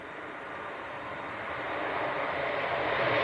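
A KLM Embraer 175 jet airliner takes off at Leeds Bradford Airport in strong crosswinds, its broad engine roar swelling steadily louder over a few seconds.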